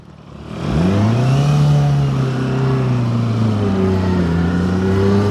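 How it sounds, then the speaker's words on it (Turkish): A Yamaha R6 sport motorcycle engine starts quiet, then revs up loudly with a rising roar and stays at a high, sustained pitch that wavers slightly. "Ver gazı bir ortalık inlesin"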